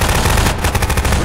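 In Garry's Mod Prop Hunt, gunfire rattles out as a loud, rapid automatic burst of tightly spaced shots, close and sustained.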